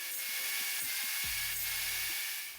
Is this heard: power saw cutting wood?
yes